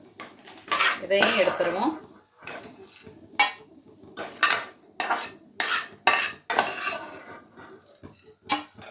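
Metal spoon scraping and clanking against a pan while stirring and frying brinjal for chutney, in repeated sharp bursts with gaps, and a short spoken remark near the start.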